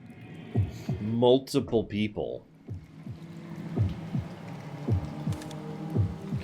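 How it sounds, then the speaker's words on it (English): A low, dull heartbeat thuds repeatedly in a horror game, a soft steady double pulse under several people talking, then continuing faintly on its own. "there's like a heartbeat"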